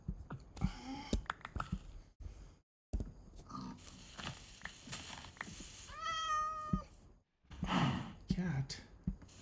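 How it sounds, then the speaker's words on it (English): A cat meows in a survival video game, giving a clear rising call in the middle, while someone talks around it. "Cat."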